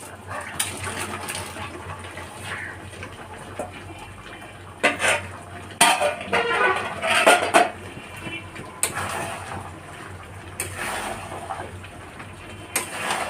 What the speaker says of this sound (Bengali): এবার আমি ভালো করে নেড়ে দিচ্ছি